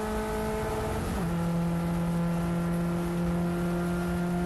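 Peugeot 208 Cup race car engine drones steadily on track at Dijon-Prenois, heard from onboard as a loud sustained tone that drops in pitch once as it shifts, then holds.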